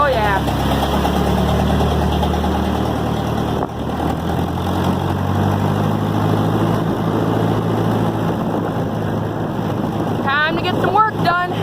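A Ferguson TO-20 tractor engine idles steadily and loudly after a cold start, a continuous low running drone with wind buffeting the microphone, and a few brief squeaky sounds near the end.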